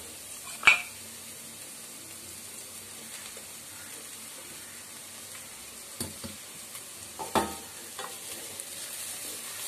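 Cooked basmati rice with vegetables is turned gently in a pan, a quiet, faint sizzle broken by a few soft clinks of a utensil against the pan.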